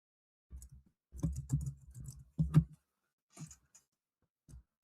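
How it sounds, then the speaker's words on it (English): Keys are typed in short irregular bursts of clicks, close and fairly quiet, with pauses between bursts. "typing noise there"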